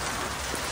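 Hail falls on the road to Shimla near Nagar Castle, a brief dense patter of pellets striking surfaces, steady and fairly loud.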